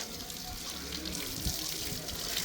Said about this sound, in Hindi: ये हमने सेटअप किया हुआ जानवर नहलाने का, बड़े वाला पानी लगा रहे हैं।